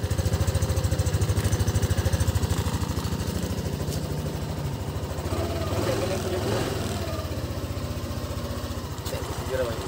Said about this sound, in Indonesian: ini suara mesin dari NMAX terbaru